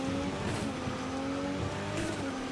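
Aston Martin-style car driving in the Cyberpunk 2077 video game, a steady engine drone with a held tonal hum and road noise, fairly loud and continuous with no talk.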